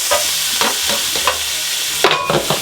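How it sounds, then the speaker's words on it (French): Shallots sweat in a hot pan for a steak and cognac sauce, with a steady sizzle broken by several scraping stirs at irregular intervals, close and fairly loud, with no talking. "On va les faire suer."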